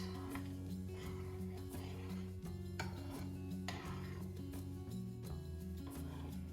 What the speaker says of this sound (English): it's already starting to boil. So we're gonna mix that around.